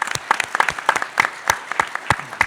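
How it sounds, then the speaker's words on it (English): Scattered handclaps from a small audience, sparse and uneven rather than a full roar, continuing throughout. "I think the applause are definitely warranted"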